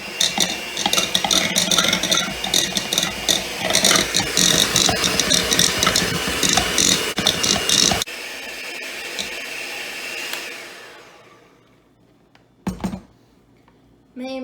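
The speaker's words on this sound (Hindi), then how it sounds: "और मैं ये हैंड मिक्सर से मिक्स करूंगी 1 मिनट के लिए।" A hand mixer whirs and rattles steadily in a bowl, beating cheddar cheese and butter for about eight seconds, then stops, leaving faint clinks and a quiet room.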